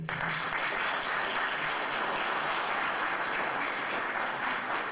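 An audience at a formal Republic Day ceremony in Kikinda applauds the performers with steady, dense clapping that carries through the whole stretch without a break.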